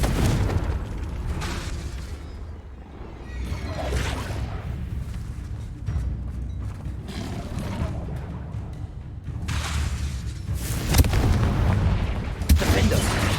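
Blasting spells go off in a wizard video game: a series of deep booming explosions and bursts, some with whooshing tails, repeating across the stretch and loud and heavy in the foreground.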